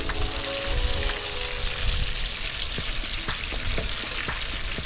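Snapper fillets fry in a hot pan with a steady, close, dense sizzle and crackle that stays loud throughout, with scattered sharper pops and no talking.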